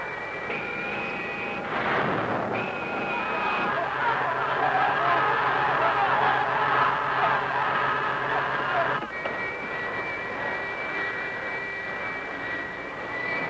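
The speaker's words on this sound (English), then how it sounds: "Thrust. I'm turning it up." Spacecraft engine in a video game roars steadily as thrust is turned up, a loud continuous synthetic rumble with tonal hums that shift partway through and keep sounding throughout.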